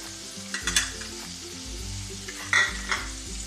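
Sliced onions frying in a little oil in a pan, a steady close sizzle with a few louder clinks of a spoon against the pan.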